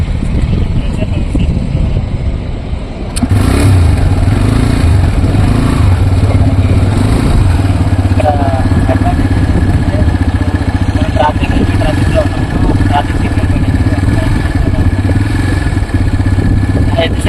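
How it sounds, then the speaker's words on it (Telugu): TVS Raider 125 motorcycle engine in first gear, idling then revved hard, a loud close steady roar filling most of the stretch with some voice faintly underneath. "సో ఇప్పుడు నేను రేస్ ఇస్తున్నా చూడండి."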